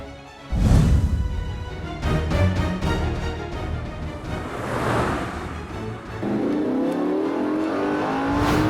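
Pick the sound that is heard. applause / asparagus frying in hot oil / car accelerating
car accelerating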